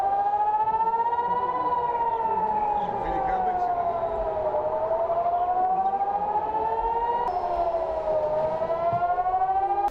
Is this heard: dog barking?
no